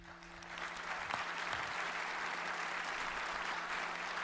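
Audience applause at the AMD CES 2019 keynote, a large hall's sustained clapping that swells up in the first half second and then holds steady, with a faint background hum.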